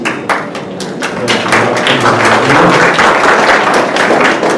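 Audience applause at a book launch in a bookshop, a dense patter of clapping that swells and holds steady, fairly loud and close, with no talk over it.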